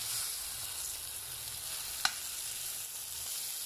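Tomatoes fry in hot oil, giving a continuous, even sizzle with one sharp pop partway through, close and moderately quiet.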